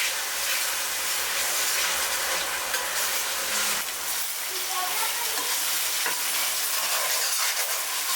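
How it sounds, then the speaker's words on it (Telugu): Garlic, dried coconut, green chillies and ginger paste frying in oil for a crab gravy masala, giving a steady close sizzle with soft stirring scrapes throughout, no voices. "వెల్లుల్లి అండ్ ఎండు కొబ్బరి, 2 పచ్చిమిరపకాయలు, ఆ అల్లం పేస్ట్ని కూడా చక్కగా ఆయిల్లో ఫ్రై చేసుకోండి."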